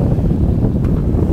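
Soft, steady lapping of small waves along a sailing boat's hull under sail with the engine off, in a moderate beam breeze, mixed with continuous wind rush across the microphone; no voices.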